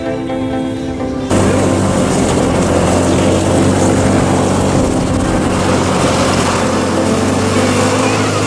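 An ice tank vehicle drives across frozen ice in Harbin, China, its engine rising after a quiet second into a loud, steady, close roar with a low throbbing hum that holds to the end.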